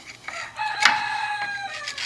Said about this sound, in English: Roosters crowing, ducks a quacking.